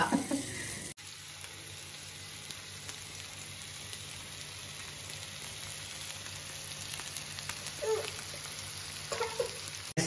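Masala-coated bangude mackerel fry in a pan, a quiet, continuous sizzling crackle with a few brief louder spatters.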